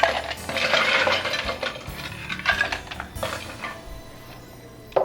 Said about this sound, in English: I'm going to fill my cup with ice here.